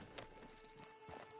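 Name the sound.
horse hooves clip-clop, from a video game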